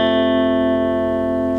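Sustained ringing guitar chord from a picking pattern, individual strings plucked and held so the notes blend together, steady and clear with no talking.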